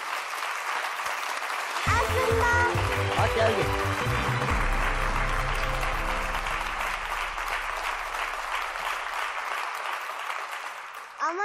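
Studio audience applause on a Turkish game show, loud and sustained for about ten seconds, with a host speaking over it and music starting beneath before the clapping fades out.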